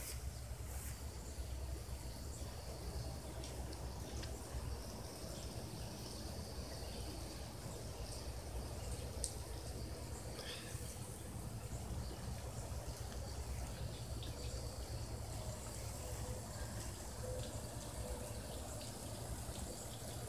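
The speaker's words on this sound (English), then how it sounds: "I'll move that hose around a little today and entertain myself with the sound of water." Water from a garden hose gushes and splashes in a steady, continuous stream outdoors before sunup, heard alone at moderate level.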